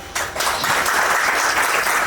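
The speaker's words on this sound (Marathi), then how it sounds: "मॅडम साठी जोरदार टाळ्या होत्या" A crowd at a corporate event applauds a woman being honoured, giving loud, sustained, dense clapping that starts suddenly and continues without a break.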